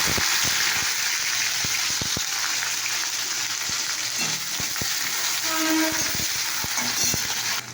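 Hot oil sizzling steadily in a pan beside chopped onions, a loud continuous hiss with scattered sharp crackles and light clinks throughout, no speech.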